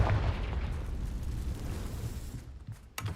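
A Confringo spell in Hogwarts Legacy bursts as a heavy, rumbling blast that rolls out and fades over a few seconds, followed by a sharper crack near the end.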